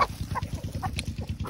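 Chickens cluck quietly at feeding time, a quick run of soft, rhythmic clucks and low murmurs close by, with faint higher chirps mixed in.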